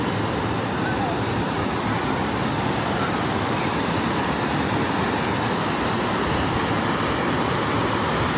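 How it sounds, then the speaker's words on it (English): Waves surge in the Typhoon Lagoon wave pool at a water park, a loud, continuous wash of churning water that fills the whole stretch without pause. "Those are some big waves."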